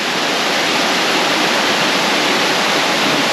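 Soco Falls in Maggie Valley, North Carolina, roars with a loud, steady rush of falling water, a dense unbroken wash of sound from close by with no voices.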